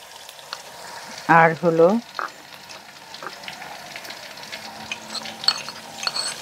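Ginger and garlic paste goes into hot oil in a pan with a steady sizzle and frying crackle, while someone speaks briefly near the start.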